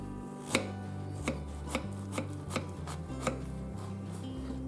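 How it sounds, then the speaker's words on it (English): A knife slices through a zucchini on a cutting board, giving about eight distinct chopping knocks in an even rhythm, close and clear, with no voices. "I will cut zucchini in half"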